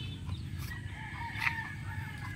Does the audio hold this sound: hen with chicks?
yes